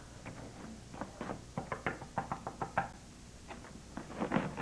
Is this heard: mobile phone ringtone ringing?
no